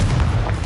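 A Confringo blasting spell explodes in the Hogwarts Legacy video game, a short, loud, low booming burst that rumbles steadily for its whole length with no voices.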